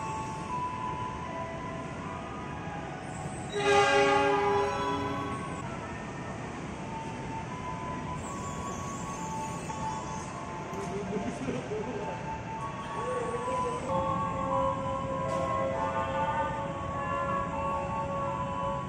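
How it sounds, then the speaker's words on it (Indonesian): A JR205 KRL electric commuter train pulls into platform 3 at Jatinegara station, Jakarta, with a steady rumble of wheels on rails, squealing brakes and a loud horn blast early on. The train stays close and loud throughout. "JR205, masuk ke jalur 3."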